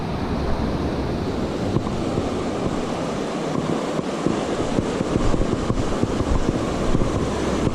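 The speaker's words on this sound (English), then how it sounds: "Wow, the water is raging today." Fast-moving, raging river water rushes steadily at a fishing spot, a loud, close, broadband roar with gusts of wind buffeting the microphone and no voices.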